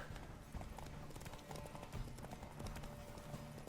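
Horse hooves in The Witcher 3 on Series S, with rhythmic clip-clop steps close by and faint, sometimes irregular as the horse struggles on the surface, under a quiet game backdrop.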